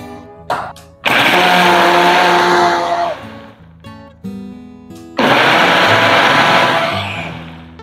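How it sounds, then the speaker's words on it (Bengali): An electric blender whirs through a sugared watermelon summer drink in two long bursts, each starting with a sharp high motor roar that gradually slows and drops, separated by brief clicks and a pause. "এবারে আমি এটাকে আটকে দেব, আর আমাদের ব্লেন্ড করে নিতে হবে।"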